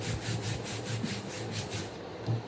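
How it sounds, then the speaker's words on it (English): A burnishing tool is rubbed back and forth over paper for a card layout, giving a close, steady series of soft scraping strokes at an even rhythm with no talking. "I'm just going to turn that over and give it a good burnish"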